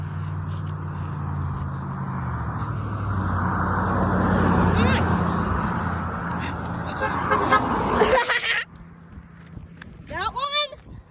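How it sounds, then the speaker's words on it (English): A passing car sounds its horn on a road, with a sustained honk near the start, loud under people talking close by, followed by traffic noise. "Honk it."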